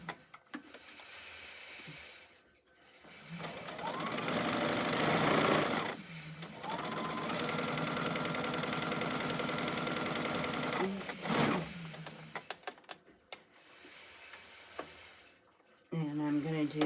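A sewing machine stitches fabric for a bowl coozie in long steady runs, pausing briefly between passes, close and moderately loud, with scattered small clicks near the end.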